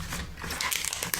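Close, crisp crinkling and tearing of a thin chocolate bar wrapper being peeled open, a short burst of rustles and crackles with no voices.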